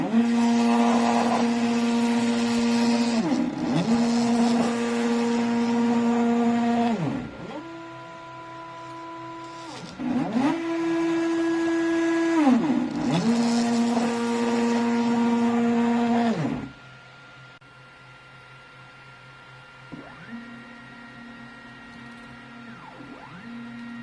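Stepper motors of a CNC laser engraver built around an Alfawise U30 / Ender 3 frame whine in loud, sustained tonal sweeps, rising and falling across several long passes, then continue more quietly at the end, with no talk.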